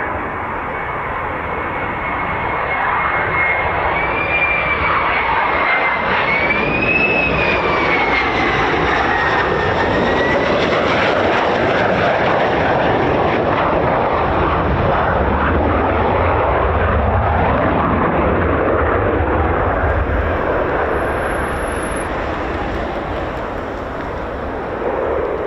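F-15 fighter jets passing over RAF Lakenheath make a loud, sustained jet roar that swells and holds for about twenty-five seconds, with a rising and falling whine, fairly close overhead and no talk.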